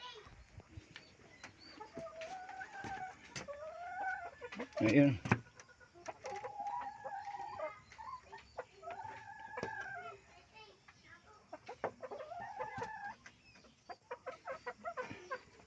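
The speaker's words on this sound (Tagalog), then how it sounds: "Tignan natin tong broiler namin manok" Broiler chickens in a coop cluck and call repeatedly with rising, warbling notes and a louder squawk midway, close by, while a person speaks briefly.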